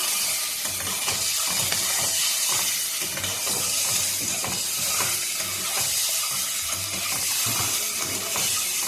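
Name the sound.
eggs frying in a pan for egg curry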